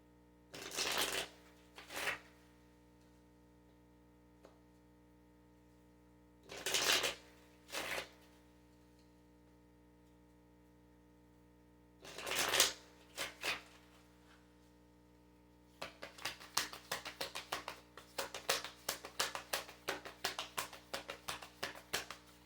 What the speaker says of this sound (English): I'm going to pull some Kali cards for you.